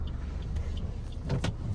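A car being parked on arrival at a lodging in Alibaug gives a steady low engine rumble throughout, with a brief whirring rise near the end, and no talk.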